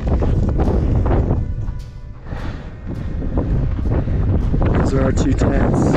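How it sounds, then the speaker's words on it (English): Cold, strong wind roars during a snowstorm at a tent camp high on Aconcagua, buffeting the microphone in loud continuous gusts with a brief lull midway, while a person speaks over it. "I don't want to go outside because it's so cold and windy and snowy"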